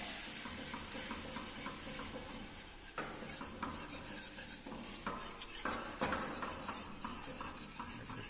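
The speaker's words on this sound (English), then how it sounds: "we have to continuously stir it till there is no lumps" Butter and flour roux with milk being stirred steadily in a pan, a continuous scraping and clinking of a utensil against metal with small bursts of louder scrapes, close and alone.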